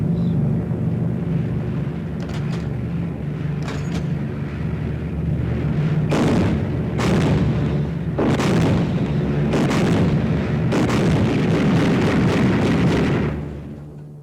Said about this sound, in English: Okay to test your guns.